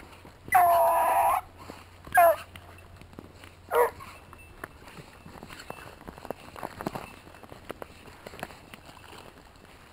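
Hunting dogs working a scent at a Christmas tree farm give a few loud, sharp barks and yelps in the first four seconds, then fainter rustling and movement follow.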